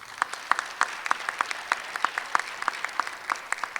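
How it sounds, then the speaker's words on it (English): An audience at a school spoken word event applauds young performers, brisk rhythmic clapping with many sharp, fairly regular hand claps standing out over a steady crowd clatter. "Could we give a big round of applause for our young people this evening?"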